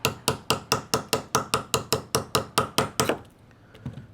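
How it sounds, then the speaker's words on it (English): A block of clear cocktail ice is tapped in a steady, even rhythm to score it into cubes: about fourteen sharp, ringing knocks, close and distinct, then a quiet, faint clatter as the tapping stops. "Again, we're going to score this down. I might make a little larger cube here because it's so easy. Little score, little tappy tap."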